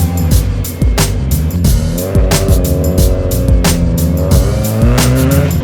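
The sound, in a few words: car engine rough cold start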